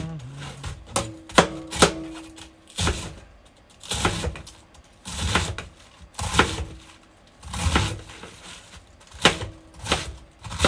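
A cored cabbage chopped with a knife on a board, irregular sharp thuds and crunchy cuts coming in close clusters with brief pauses, no talking.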